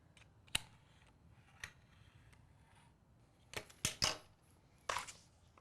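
Several sharp, crisp snips of scissors cutting through fabric, spaced irregularly with a cluster of quick cuts near the end, over quiet background.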